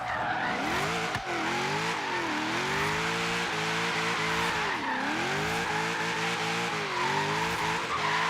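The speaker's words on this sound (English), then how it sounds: "A little bit of a jump drift through the intersection there." A car in a racing video game jump-drifts through an intersection, its engine droning steadily with rising and falling pitch under continuous loud tire squeal for the whole stretch, close and sustained without pause.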